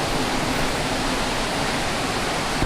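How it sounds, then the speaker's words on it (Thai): Rushing water of Sarika Waterfall, a multi-tiered cascade in Nakhon Nayok, Thailand, pours as a steady, loud, dense roar with no pauses across the whole stretch. "ก็เข้าไปชมด้านในน้ำตกสาลิกากัน"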